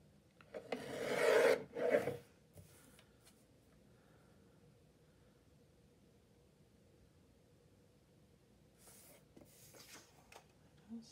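Paper for a tri-fold folio is trimmed with a couple of quick, close rasping strokes near the start, followed by a long, quiet stretch of faint handling and a soft scrape at the end.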